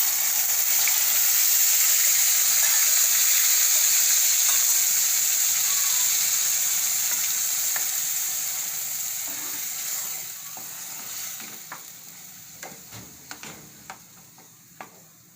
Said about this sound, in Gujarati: હવે આપણે આનો વઘાર કરી નાખીશું.